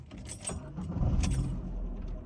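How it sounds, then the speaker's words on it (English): Car keys jangle close by, then a car engine turns over and rumbles low and steady, with no voices. "I'm going to turn on my car engine"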